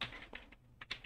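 Quick computer keyboard typing while entering an output name into Unity Shader Graph, a short burst of soft, close key clicks in an irregular rhythm with brief pauses and no voice.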